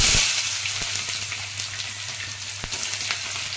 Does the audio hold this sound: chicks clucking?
no